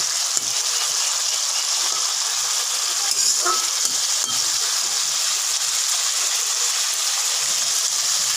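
Fish curry (kalia with bata fish) simmers and sizzles steadily in a pan, a continuous bright frying hiss with small pops, close and fairly loud with no talking.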